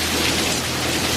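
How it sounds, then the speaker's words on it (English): Heavy rain during a flood pours down in a dense, loud, continuous hiss of drops hitting surfaces, close and unbroken, with no talking over it. "I love the rain."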